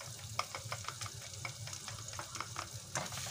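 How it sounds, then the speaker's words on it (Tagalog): Garlic sizzles in melted butter in a pan, a soft steady crackle with repeated light scrapes of stirring, fairly quiet and without talk. "Tunawin muna natin yung butter guys. Then next na ilalagay po natin guys yung garlic."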